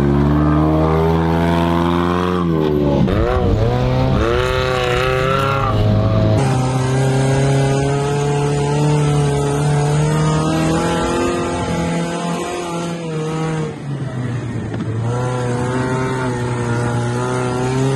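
A car engine revs and drones loudly while driving through the desert, its pitch rising and falling as it accelerates and shifts, steady and close throughout with no talk.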